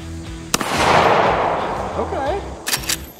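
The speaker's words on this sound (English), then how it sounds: "I'm just going to do a couple warm-up shots just to get a feel for it" Two loud close gunshots from a .44 Magnum rifle fired outdoors, one sharp crack followed by a long rolling echo, then a second shot near the end with a voice in between.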